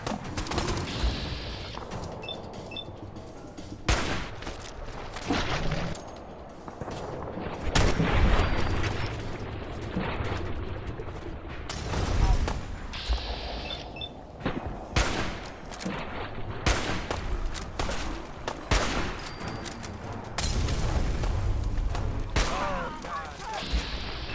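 Gunfire in the video game Fallout 4: Far Harbor, with rapid bursts of automatic fire, single shots and heavy booms, mixed with shouted voices and game music throughout a chaotic firefight.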